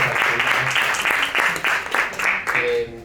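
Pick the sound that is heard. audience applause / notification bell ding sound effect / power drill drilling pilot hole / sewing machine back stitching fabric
audience applause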